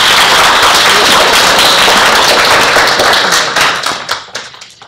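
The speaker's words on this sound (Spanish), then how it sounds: "Un aplauso." Loud, close audience applause at a national moot court competition, a thick burst of clapping that thins into scattered individual claps before stopping.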